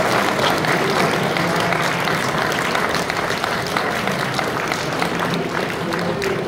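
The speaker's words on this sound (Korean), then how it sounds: "큰 박수 부탁드리겠습니다." A congregation applauds during an award presentation at a national church men's association convention service, a loud, sustained wash of many hands clapping from a large crowd, unbroken for several seconds.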